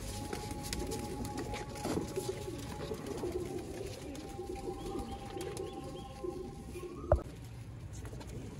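Pet pigeons coo softly at a distance under steady background noise, with a brief knock near the end.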